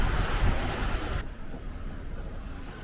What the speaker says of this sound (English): That was some waves.